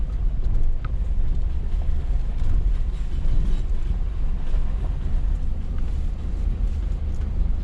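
A Ford F350 pickup truck driving in four-wheel drive up a steep repaired dirt road, a steady loud low engine and road rumble heard from the cab with wind buffeting, no talk.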